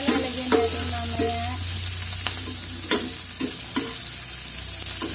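Onions sautéing in a pan for Filipino pork adobo, a continuous loud sizzle with intermittent spoon scrapes and stirring clinks close by, no voices heard.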